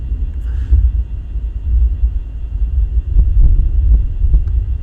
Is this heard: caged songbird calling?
no